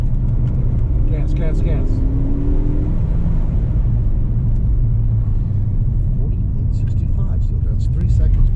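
An autocross car accelerating on the gas during a timed run, a loud continuous engine rumble with rising whine early on, with a voice talking over it.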